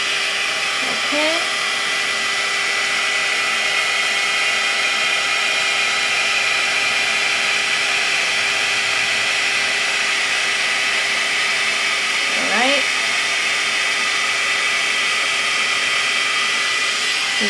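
A GHD Duet Style hot air styler running on curly hair gives a loud, steady motorised whir that holds throughout, with a couple of brief pitch shifts as the tool is moved.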